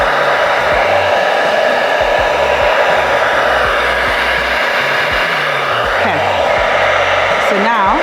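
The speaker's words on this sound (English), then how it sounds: "Good look at the hair dryer just to dry that part so that it doesn't lift." A hair dryer blows steadily at close range to dry part of a wig cap during a wig installation, a loud, constant whooshing roar that runs without a break.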